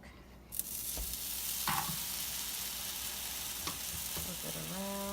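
Vegan French toast made with cinnamon bread frying on an oiled griddle: a steady, close broadband sizzle runs throughout, with a few soft clicks and scrapes as slices are set down, and no talking.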